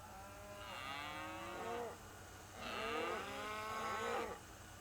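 Cattle penned at a feed bunk with silage let out long, drawn-out moos, one call and then a second overlapping pair, fairly close and clear against a quiet background.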